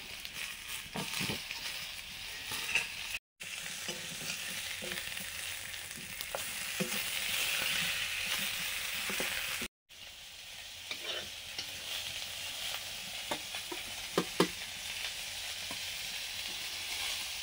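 Pointed gourd and potatoes fry together in a pan with a continuous close sizzle and regular spatula scrapes and knocks. Two short gaps break the sound.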